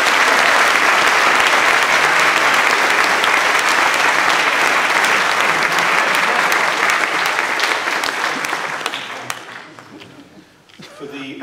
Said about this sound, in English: So, applaud them.